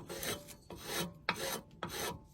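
Four rasping shaving strokes of a hand plane taking thick cuts into wood, evenly spaced and close, each a brief scraping swipe.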